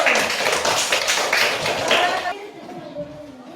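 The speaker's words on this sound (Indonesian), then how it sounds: "Tepuk tangan dulu." A classroom of students claps after a group presentation, a short burst of close, uneven hand claps lasting a couple of seconds before trailing off, with voices talking underneath.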